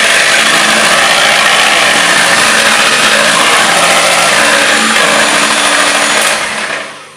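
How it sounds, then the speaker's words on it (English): An electric whisk whirs loudly and steadily while beating duck eggs for muffin batter, a continuous high buzzing motor that winds down at the end with no talking. "I'm going to use an electric whisk because it's much quicker,"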